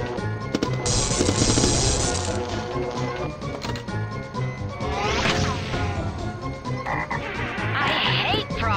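Cartoonish frog croaks ring out in a busy pinball video game table, mixed with loud crashes, bangs and flipper hits under bright electronic effects and music.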